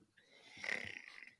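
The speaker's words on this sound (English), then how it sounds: "go in and out as he begins to snore and have kitty dreams" A sleeping cat snores softly, a single drawn-out raspy breath that swells and fades, faint and close with no other sounds.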